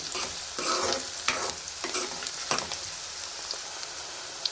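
Chicken curry base frying in foaming peanut oil is stirred up close: a steady hiss of sizzling broken by repeated scraping stir strokes, each bringing a brief louder surge.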